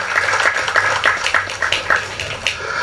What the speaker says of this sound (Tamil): உங்களுடைய பலத்த கரகோஷத்தை வெளிப்படுத்தும்